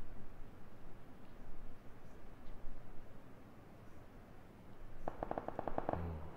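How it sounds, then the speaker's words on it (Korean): Gunfire in the battle royale game PUBG, a faint, distant crackle under low background noise, then a quick rattling burst of rapid shots near the end. "전방에 총소리네."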